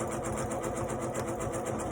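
A sewing machine runs steadily while stitching a quilt: a quiet, even mechanical whir with a fast regular ticking pulse, continuous and alone, with no voices.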